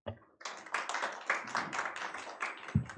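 Audience at a Korean science and technology policy panel forum claps to welcome a panel speaker, a short, moderate burst of hand clapping in a hall, ending with a low thump.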